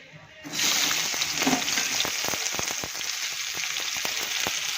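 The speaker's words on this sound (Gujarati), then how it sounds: "તો ચાલો હવે જીરું શેકાઈ ગયું છે અંદર નાખી દઈએ ડુંગળી" Chopped onion hits hot oil with roasted cumin, bursting into a loud, steady sizzle that holds for several seconds, with a few stirring clacks from a spoon in the pan.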